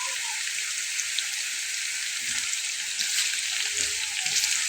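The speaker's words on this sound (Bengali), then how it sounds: "এইভাবে আমি এটাকে ভেজে নেব।" Potatoes sprinkled with salt fry in a pan with oil, making a close, steady hiss and crackle of sizzling that carries evenly throughout.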